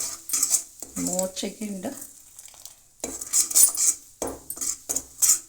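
A metal spoon stirs chili powder frying in oil, with close clinks and scrapes against the pan over a faint sizzle, while a voice speaks briefly.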